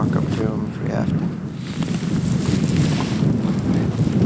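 Steady wind gusting across an Alaskan hillside during a grizzly bear hunt, a broad rushing roar buffeting the microphone throughout, with voices talking faintly over it.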